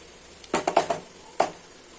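Masala spices and ginger garlic going into a cooking pan, heard as a few quick metallic clinks and taps of a utensil against the pan in a short cluster, followed by one more clack.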